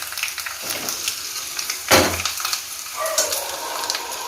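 Hot tempering of mustard seeds and red chili poured over chili powder and turmeric into mango dal, a loud burst of close sizzling that settles into steady frying crackle with stirring, no talking.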